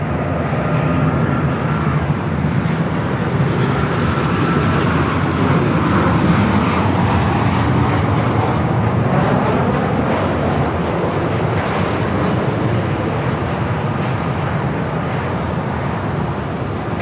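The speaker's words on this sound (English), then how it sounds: "737 up next." A Boeing 737 airliner at Los Angeles International Airport roars with a loud, steady jet engine rumble that holds strong and constant throughout, with no voices.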